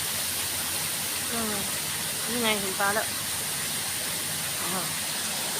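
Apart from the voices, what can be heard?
waterfall at a cafe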